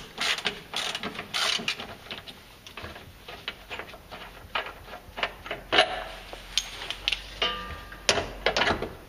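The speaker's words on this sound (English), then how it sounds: "I'm gonna loosen the top bolt on the shock here" A ratchet wrench loosens the top shock bolt on a 1999-2004 Jeep Grand Cherokee, its clicking ratcheting coming in uneven bursts over several seconds, close and fairly loud.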